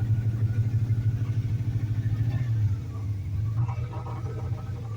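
A pickup truck's 302 V8 idles with one cylinder misfiring for want of plugs and wires. It makes a low, lumpy rumble with an uneven pulsing beat, steady and fairly quiet, and eases off slightly partway through.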